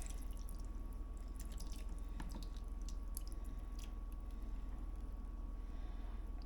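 Faint wet dripping and squishing, soft irregular drops and splats over a low steady hum, as liquid is poured in a layer over smoked mackerel.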